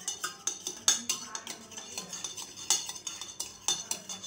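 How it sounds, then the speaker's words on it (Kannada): A spoon stirs a saunf (fennel) digestive drink in a glass of water, making quick, light metallic clinks and taps against the glass in an irregular rhythm, close and fairly quiet. "ಕಲಕುತ್ತೇನೆ."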